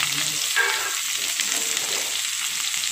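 Steady hiss of onion frying in hot oil, a continuous close sizzle with faint crackles and no voices.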